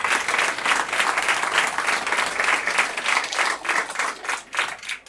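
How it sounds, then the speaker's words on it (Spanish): Dense, sustained applause from an audience at a Halloween-themed PechaKucha night, many hands clapping loudly and continuously, tapering off slightly at the very end. "Así que un aplauso ya solo por eso."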